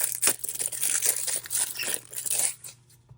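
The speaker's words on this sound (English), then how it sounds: "Grab my knife here. Cut that sucker open." A knife cuts through the cellophane wrap of a 1990 Topps baseball boxed card set, a close, continuous crinkling and tearing of plastic for about three seconds, then a quick fade to quiet. No one talks.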